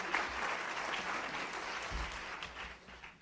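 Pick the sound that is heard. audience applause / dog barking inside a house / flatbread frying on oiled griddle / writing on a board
audience applause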